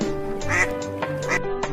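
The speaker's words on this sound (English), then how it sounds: "You can hear ducklings quacking." Ducklings quack in a lively run of repeated nasal calls, close and moderately loud, with overlapping harmonic notes.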